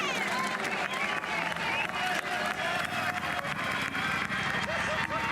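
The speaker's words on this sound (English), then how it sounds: "It's a fantastic crowd, isn't it, here in Bergen at the start line" Roadside crowd at the start line of a women's junior time trial at the 2017 road world championships in Bergen, Norway, making a continuous loud wash of cheering, clapping and shouting, with a commentator's voice running over it.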